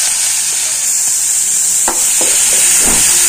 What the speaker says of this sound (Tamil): வெங்காயம் தக்காளி கருவேப்பிலை இது பொறிட்டோம்